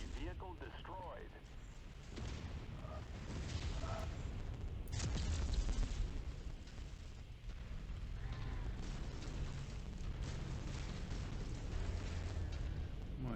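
An enemy vehicle explodes in the modded MechWarrior 5: Mercenaries video game: heavy booming blasts and rumbling over steady battle noise, with a strong burst partway through and a sustained roar after it.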